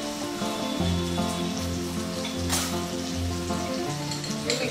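Tomatoes sautéing in a pan for kala chicken give off a steady, even sizzle and hiss that runs throughout, with sustained tonal background music underneath.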